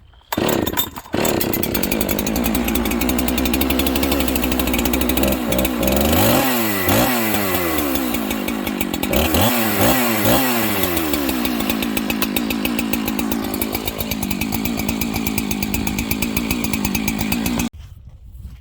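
A stock Husqvarna 365 XTorq chainsaw warming up, its engine roaring loud and close with repeated throttle revs rising and falling for about sixteen seconds before cutting off.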